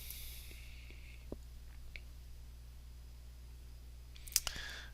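A computer mouse right-click made on a Windows Start menu entry, a few faint quiet clicks over a low steady hum, with a sharper click cluster near the end.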